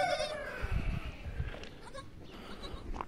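A goat gives one clear, nasal bleat at the start, followed by low thumps and shuffling nearby in a farm setting.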